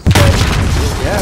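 A grenade blasts in a Call of Duty: Modern Warfare team deathmatch, one loud close boom with a sharp onset and rumbling tail, then busy game noise.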